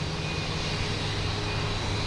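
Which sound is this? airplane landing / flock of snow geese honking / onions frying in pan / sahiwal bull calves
airplane landing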